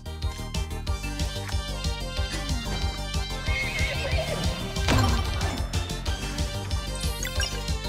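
A horse neighs in the video game Sea of Stars, a loud whinny rising over looping game music with faint hoof clip-clops around it.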